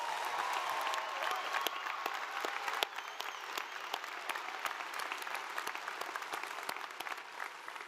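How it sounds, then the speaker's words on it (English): Applause from a high school graduation ceremony audience, fairly distant and moderate in level, with sharp individual claps standing out from the steady crowd clapping for the whole stretch. "Give them a big round of applause."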